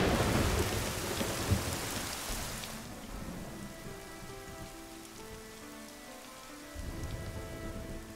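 Rain shower with rolling thunder from a radio drama, a loud rumbling burst at the start easing into steady rain on a surface with low thunder continuing underneath.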